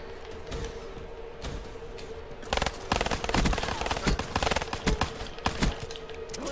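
Gunfire in Call of Duty Black Ops III during a one-on-one sniper and gun game match, starting with scattered shots and building into a dense, rapid burst of cracks in the second half.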